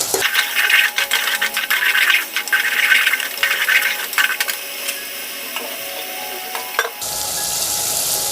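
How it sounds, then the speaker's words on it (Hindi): Chicken pieces spiced with salt and red chilli powder fry and get stirred in a pan for dhaba-style bhuna chicken, loud crackling sizzle with scraping stirs throughout, then a softer, steadier hiss near the end. "अब इसको 2 मिनट 3 मिनट और भूनेंगे।"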